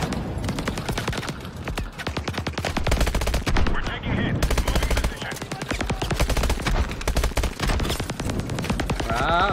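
Rapid machine-gun fire rattles through a Call of Duty–style military shooter game, loud bursts of automatic shots crowding together with short gaps and a voice heard briefly under the battle.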